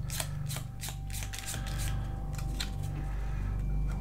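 A deck of spell cards for the Arkham Horror third edition board game being shuffled by hand, a series of quick close riffling and snapping bursts, dense at first and then sparser over a low steady hum, with no voices.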